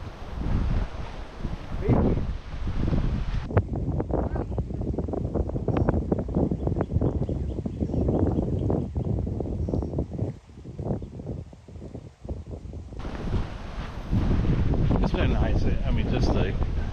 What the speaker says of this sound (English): It's actually good to have the wind when it's hot.